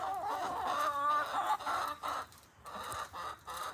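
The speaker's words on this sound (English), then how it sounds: "Here are my chickens." Several chickens cluck and murmur close by in short, irregular bursts, with a brief higher squawk early on.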